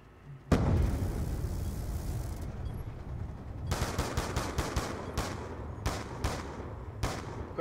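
Gunshots in Black Ops 2 on PC: a loud opening blast followed by a dense stretch of fire, then a string of sharp, separate shots spaced roughly half a second apart, close and unaccompanied by talk.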